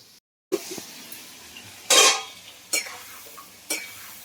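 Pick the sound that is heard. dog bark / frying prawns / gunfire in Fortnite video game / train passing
frying prawns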